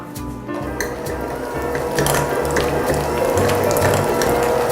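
An electric mixer creams softened butter, about two sticks, in a loud, steady mechanical whir with a rattling, grinding texture that runs unbroken after a brief start.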